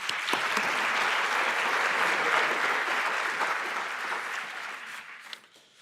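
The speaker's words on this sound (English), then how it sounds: "give yourselves a round of applause for that." Conference audience giving a sustained round of applause, many hands clapping densely and evenly before the sound tapers off near the end.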